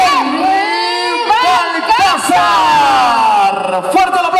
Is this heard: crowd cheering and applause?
yes